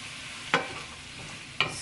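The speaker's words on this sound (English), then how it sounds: "Stir this around." Food seasoned with pepper and onion powder is stirred in a pan, giving two short scraping strokes about a second apart over a steady soft sizzle, with no talking.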